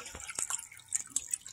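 Water drips and trickles in an orchid tank, a few faint, irregular splashes and drops heard up close against quiet surroundings.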